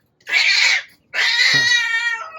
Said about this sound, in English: Okay, cats, relax.